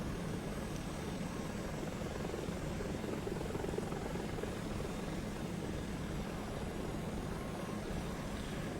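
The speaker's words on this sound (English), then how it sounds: "The helicopter kind of leaves me really quick." Helicopter flying in the video game Project Zomboid, a steady faint rotor and engine drone with no breaks, heard alone without voices.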